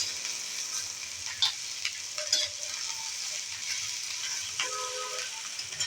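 Fresh red chillies fry in a pan for a Maharashtrian kharda, producing a continuous low sizzle with a few stirring taps and scrapes, and no talking.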